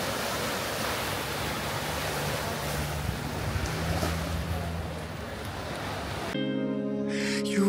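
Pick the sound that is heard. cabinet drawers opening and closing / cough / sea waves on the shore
sea waves on the shore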